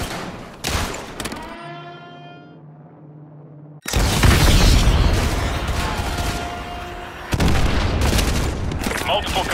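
AGM missile strikes slam down in a snowy Call of Duty: Modern Warfare 2 battle, a sudden heavy blast followed by rumbling, crackling explosions and further impacts, after a voice speaks.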